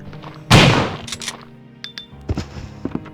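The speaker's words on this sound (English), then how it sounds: "Just listen to the headshot sound." A shotgun blast lands as a headshot in Resident Evil Director's Cut, one sharp loud boom that then decays. Quieter in-game thuds and clicks follow.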